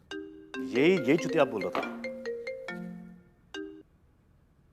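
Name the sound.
mobile phone ringing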